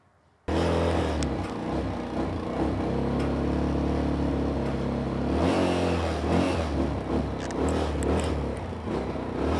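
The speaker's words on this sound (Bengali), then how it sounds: "গাড়িটা স্টার্ট দিয়ে আপনাদেরকে সাউন্ডটা শুনিয়ে দিচ্ছি আমি।" A second-hand motorcycle with a leaking silencer starts after a short silence, then idles loudly and steadily with a rough, throaty exhaust and a slight rev midway.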